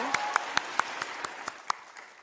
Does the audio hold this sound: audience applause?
yes